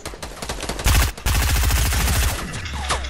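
Fortnite gunfire at an enemy, a loud, close, rapid string of shots that rattles on almost without pause for a few seconds.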